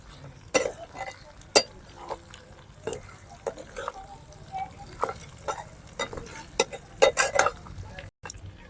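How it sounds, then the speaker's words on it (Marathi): Green chilies and garlic-ginger paste sauté in a pan for chicken curry, with intermittent spoon scrapes and clinks over a soft sizzle, close by and unevenly paced. "लसूण अद्रकची पेस्ट टाकून घेऊ आणि एक वेळ मस्त असं परतून घेऊ"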